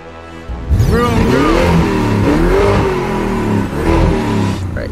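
A Lamborghini Urus engine fires up loudly and close, then revs in rising, falling sweeps for several seconds before settling, with no talk over it.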